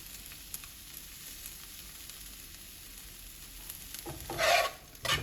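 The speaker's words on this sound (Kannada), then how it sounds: "ಕೈಯಾಡಿಸ್ತಾನೆ ಇರಬೇಕು, ಇಲ್ಲಾಂದರೆ ಸ್ಟಿಕ್ಕಿ ಆಗಿಬಿಡತ್ತೆ." A spoon stirs sabudana khichdi in a pan, giving faint quiet scraping and soft sizzling, then a couple of louder scraping strokes near the end with no talk.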